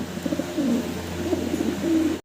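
Fancy Velvet Shield pigeons cooing close by, a few soft, repeated throaty coos in quick succession, loud and clear with no talk.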